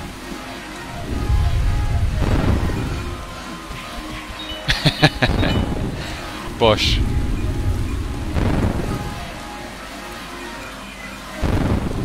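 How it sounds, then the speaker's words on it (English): Rain and rolling thunder in Scott Pilgrim vs. the World: The Game – Complete Edition, during an outdoor rain fight level. Steady rainfall is broken by recurring low, regular rumbles and a few sharp game hits, while a voice speaks briefly. "That is pretty regular thunder."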